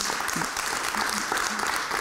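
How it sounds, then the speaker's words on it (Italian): Studio audience breaks into brisk, continuous applause, a dense, loud patter of many hands with no pauses across the short stretch. "Merita un applauso tutto questo, me lo permettete?"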